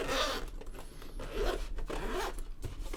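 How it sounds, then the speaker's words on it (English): Zipper on a thin carry case for a Steam Deck being pulled closed in a continuous rasping sweep, close and clear with no talk. "you can zip it up,"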